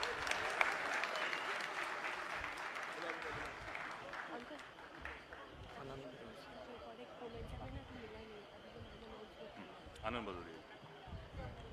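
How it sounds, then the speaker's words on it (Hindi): A crowd at a political rally claps steadily at a moderate distance, mixed with background chatter and murmuring voices throughout. "अरे जोरदार तालियां बजाओ यार।"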